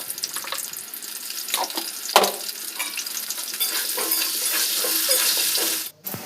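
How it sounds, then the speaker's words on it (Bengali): Potatoes frying in hot oil in a kadai while a chicken curry is being made: a steady close-up hiss and sizzle with occasional sharper crackles and a brief clatter, no voices. "কড়াইতে তেলের মধ্যে আলুগুলো ভালো করে ভেজে নেব।"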